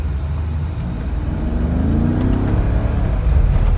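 A heavy vehicle rumbles past nearby, its engine growl building steadily and staying loud, with no talking.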